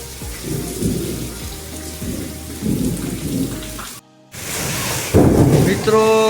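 Heavy monsoon rain pouring down in Gujarat with loud rumbling thunder, close and steady, with a brief dropout and then a fresh surge of downpour.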